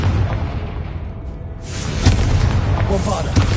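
A deep booming blast from the Confringo blasting spell, with loud rumbling bursts that swell and repeat across the stretch, heavy low-end impacts over a noisy background.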